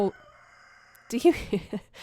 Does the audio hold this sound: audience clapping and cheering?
no